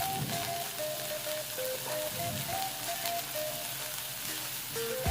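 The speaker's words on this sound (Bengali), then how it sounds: "এবারে 2টো পেঁয়াজ এরকমভাবে সরু করে কুচিয়ে রেখেছিলাম, ওটা আমি তেলের মধ্যে দিয়ে দিচ্ছি।" Sliced onions and green chilies sizzle steadily in hot mustard oil, a loud, continuous crackling fry with faint scrapes and stirring throughout.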